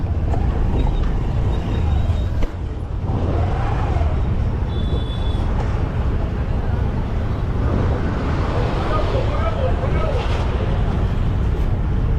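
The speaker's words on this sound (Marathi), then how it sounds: "ती बाजूला जी बोट जाते" Ferry boat crossing in Goa, heard from on board as a steady low engine rumble and wind under continuous nearby talk throughout.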